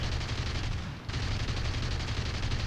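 Aircraft guns in War Thunder historical battles fire in a dense, continuous, rapid stream, loud and close, broken only by a split-second pause before resuming.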